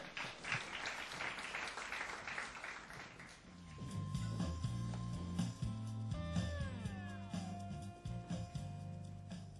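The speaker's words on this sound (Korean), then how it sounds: "여러분 큰 박수로 맞이해 주세요" An audience at a YES Leader entrepreneurship competition and startup festival applauds to welcome a professor to the stage. Dense, steady clapping fills the first few seconds, then gives way to loud music with sustained tones.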